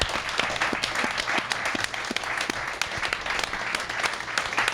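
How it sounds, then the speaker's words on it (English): At Ableton's headquarters, a small audience claps in a steady, somewhat sparse round of applause, individual hand claps distinct against a low room hum, fairly quiet. "Just give a round of applause for Ableton for everything they do."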